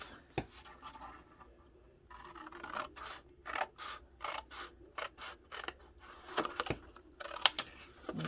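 Scissors snip through folded paper while an envelope is being cut by hand, a run of short crisp cuts at a steady rhythm, close and clear with no talking.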